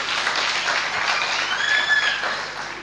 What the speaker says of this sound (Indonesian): Mana tepuk tangannya saudara?